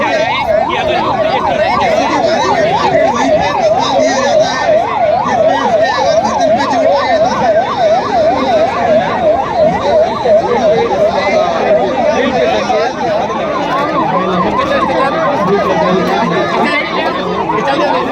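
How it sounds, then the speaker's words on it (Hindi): A wailing ambulance siren at a civil mock drill, fast up-and-down cycles sounding loud and close throughout, over a busy background of crowd chatter and voices talking. "एक एम्बुलेंस भी आई है।"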